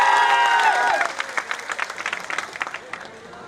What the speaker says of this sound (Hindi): बाबूलाल जी के लिए ताली बजा, पूरे मंच के लिए।